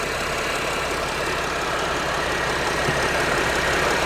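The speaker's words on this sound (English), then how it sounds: "So the engine is running, as you can hear." Mercedes Sprinter van engine idling, with a loud, steady low rumble and broadband mechanical clatter, close up and unchanging throughout, with no talking.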